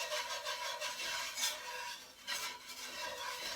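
A whisk stirs slurry into gravy in a pan, giving a steady scraping, swishing rasp in quick repeated strokes, close and fairly soft, with no talking.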